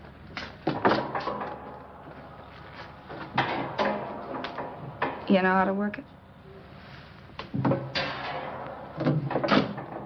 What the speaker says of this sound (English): there's a folding bed behind this door